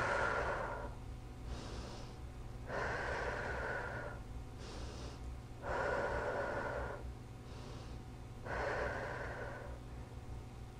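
Slow, rhythmic breathing during a Pilates leg exercise: four long breathy exhales, each followed by a quieter inhale, close and soft with no talking.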